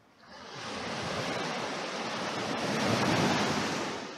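Ocean waves breaking at a beach on Djerba, a steady broad wash of surf close to the microphone that swells slightly toward the end, with no talk.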